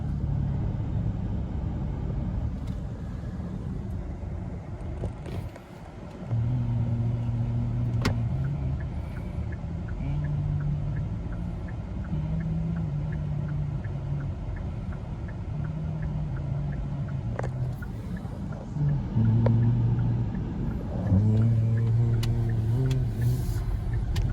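A 1920s-era old car rumbles along a street with engine drone and revving swells, mixed into steady nearby traffic noise over about twenty seconds.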